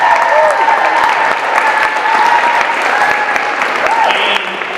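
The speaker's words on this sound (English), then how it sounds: "So I do want to give them one more round of applause for that." A crowd at an EP release event gives loud, dense applause that fills the room evenly for several seconds, with a few voices calling out under the clapping before it thins slightly near the end.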